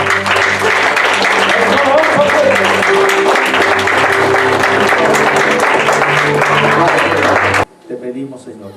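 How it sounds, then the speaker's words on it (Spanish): A church congregation claps loudly and continuously at a Spanish-language service, with music tones held underneath, before the clapping cuts off abruptly near the end, leaving faint room sound. "Dale fuerte aplauso."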